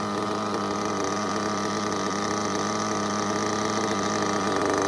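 An HB nitro RC truggy engine idles in a steady, buzzing drone, close and constant throughout, with no voices.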